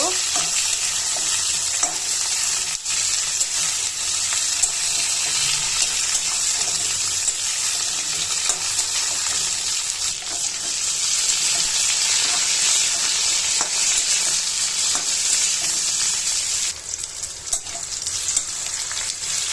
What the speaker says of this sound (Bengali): লাল পেঁয়াজের সাথে সবজিগুলো ভেজে নেব